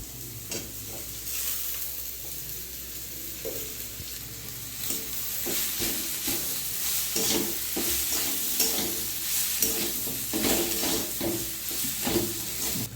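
Boiled potato gets stirred into frying spices in a pan while making Bengali egg chops: a close sizzle with repeated scraping strokes of a spatula that grow busier and louder over time.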